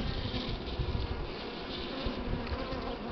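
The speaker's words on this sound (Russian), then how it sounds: "Это немного злюковатые пчелы такие, коричневенькие." Buckfast honeybees buzz in a dense, steady swarm around their queen in a nucleus colony, a continuous loud close drone with no pauses and no voices.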